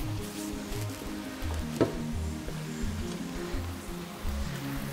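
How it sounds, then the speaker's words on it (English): Chicken stir-fry sizzling steadily in a hot pan as soy sauce goes in, a continuous close frying hiss with a brief sharper burst partway through and faint stirring, no talking. "Then we'll add a bit of soy sauce again"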